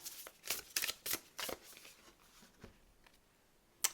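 Astrology cards are shuffled in a few quick riffling bursts, close and soft, then a brief quiet pause and a final light tap.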